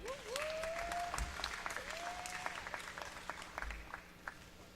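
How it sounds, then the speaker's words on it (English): Gym crowd applause at a high school girls' basketball senior night, a steady patter of clapping with scattered cheers, sneaker squeaks and a whistle-like squeal, moderately distant. "Let's hear a round of applause for Kayla Langley."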